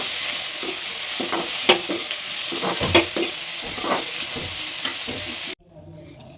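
Tamarind, tomato and coriander leaves fry in a pan, a loud, close, continuous sizzle broken by the scrape and clatter of stirring, stopping abruptly near the end, with no talking.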